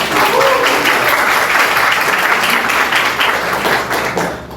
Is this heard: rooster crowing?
no